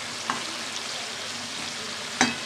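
Chicken meat frying in a pan for a Bengali kosha curry, its water cooking off as the oil separates; a steady close sizzle runs throughout, broken by two brief stirring scrapes.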